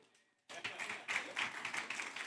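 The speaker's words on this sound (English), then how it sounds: "Round of applause for James." Audience applause breaks out in a conference room at the Nature Positive Pavilion during COP16, a steady patter of many hands clapping that begins abruptly after a brief quiet moment and continues at moderate volume.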